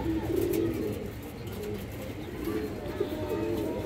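Pigeons, including a silver pair of a high-quality breed kept for sale, coo in soft, low, rolling phrases, close by and repeating against a mild background hum.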